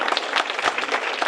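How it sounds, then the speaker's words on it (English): A live audience at a talk-style session breaks into steady applause, dense overlapping claps filling the short stretch at an even, sustained level with no voices over it. "Give around applause."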